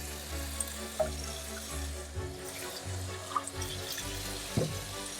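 Water trickles and splashes into a small potted plant indoors, a soft uneven pour with a few brief drips and gurgles, fairly close and quiet.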